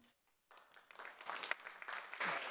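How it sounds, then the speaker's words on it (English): Applause rises from a city council meeting audience, starting after a near-silent moment and building into steady, fairly faint clapping from many people across the room. "We're not going to do a prolonged clapping."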